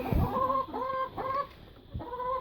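A rooster clucks close up inside a small barn in a series of drawn-out, nasal calls with short pauses between, clear against a quiet room.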